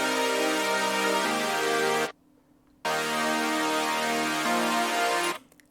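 Future bass synth stack with no vocal ambience layer, dense bright chords sustained loud, a sudden gap of silence near the middle, then the chord block returns with a shifted voicing before cutting off.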